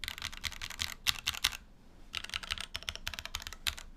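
Keystrokes on the number row of a Tofu 2.0 mechanical keyboard come in short bursts of sharp, close clacks separated by brief gaps, with no other sound.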